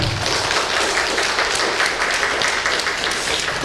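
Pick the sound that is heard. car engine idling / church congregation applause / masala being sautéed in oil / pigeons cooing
church congregation applause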